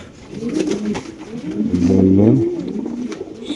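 A pigeon in a cage at a loft coos close by, with a soft rolling, throaty call that swells midway. Faint background noise sits underneath.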